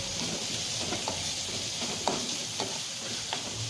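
Chopped capsicum sautéing with onions in a hot pan, a steady close sizzle broken by a few soft scraping stirs, with no talk.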